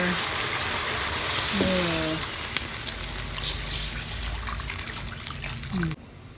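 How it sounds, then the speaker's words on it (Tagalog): Water is poured into a cooking pot for chicken sour broth soup, a steady trickling splash under a faint background hum, with a brief tonal squeak midway. "Nalagyan ko na ng tubig."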